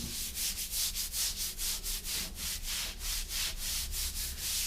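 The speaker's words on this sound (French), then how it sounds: "on ne va pas frotter, on va juste former le joint, que le joint soit bien rempli" A tool is drawn along tile grout joints in steady, even rubbing strokes, about three per second, close and fairly loud, with no talk.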